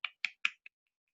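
Finger snaps imitate a soft, timid frog call from the moss of a Harts Mountain spot: three quick sharp snaps about a fifth of a second apart, then a fainter fourth, close and crisp with no talk.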